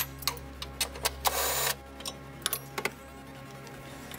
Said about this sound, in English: Using your 13mm socket, loosen the three bolts closest to you.